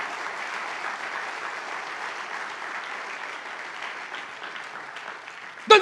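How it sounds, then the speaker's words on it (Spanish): A church congregation at a Spanish-language sermon gives steady, sustained applause that runs evenly throughout, ending with a brief sharp sound. "en un aplauso"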